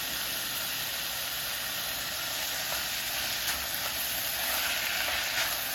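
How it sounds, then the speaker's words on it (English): Onions sauté in a pan for gravy, giving off a steady, even sizzle and hiss that runs unbroken and fairly quiet, with no voices. "when you start to saute something like onions"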